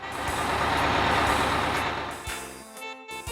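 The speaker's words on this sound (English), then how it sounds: "red, London bus." A red London double-decker bus rumbles loudly and steadily, with a broad engine roar that swells and then fades away near the end, followed by a short hiss like an air brake.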